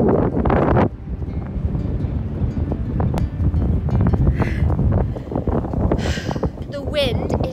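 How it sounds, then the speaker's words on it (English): Strong wind on a beach during an early run, roaring as a loud, constant rumble of gusts buffeting the microphone, with a person talking over it throughout. "The wind is so strong on this beach that running back is so hard."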